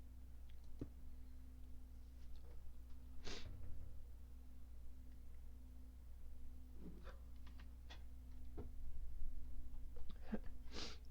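A single sharp sneeze bursts out over quiet background hum, followed by faint breathy snorts and small mouth noises, recorded close to a microphone.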